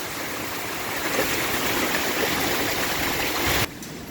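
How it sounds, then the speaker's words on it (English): Heavy rainstorm with water running down the road like a river, a steady loud broadband rush of rain and flowing water close by, ending with a sudden drop in level near the end. "I don't think this storm has peaked yet, though. Look at the road. It's like a river."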